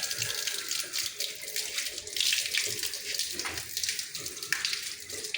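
Water runs steadily from a tap being taken apart and cleaned, with its washer removed, a continuous close hiss and splash filling the whole stretch without pause.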